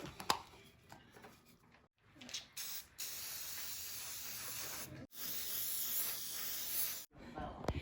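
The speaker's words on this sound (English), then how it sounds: "Now put sealant on it." Aerosol sealant sprayed onto a homemade Christmas ornament in several long, steady hissing bursts separated by brief pauses, close and fairly quiet.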